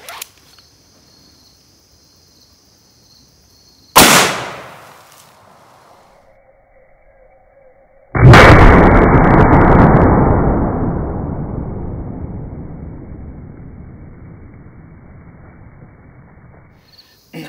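Two sharp, loud reports from a big bore .454 revolver firing cast-bullet reloads outdoors, each blast followed by a long decaying echo, separated by quiet pauses.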